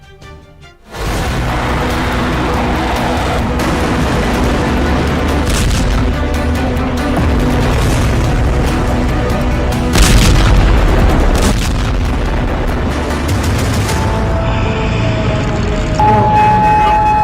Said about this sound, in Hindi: सैन्य अड्डों पर मिसाइलों की बौछार